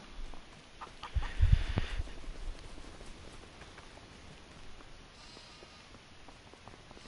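Chickens clucking in Farming Simulator 25 on a farm. A short, louder burst of clucks comes early, then sparse, faint fowl sounds over a soft hiss, with no voices.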